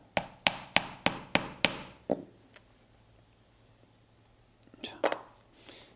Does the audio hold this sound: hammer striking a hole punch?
yes